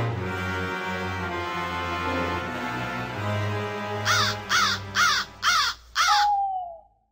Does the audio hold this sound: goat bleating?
no